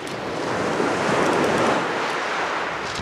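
Steady wind sweeping the seashore during a fishing trip, a continuous broadband rush blended with rolling surf, close and fairly loud throughout with no talking.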